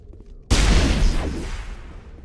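A single heavy pistol shot in Mass Effect 1 cracks out sharply after a short quiet lead-in, then booms and rolls off in a long, fading echo.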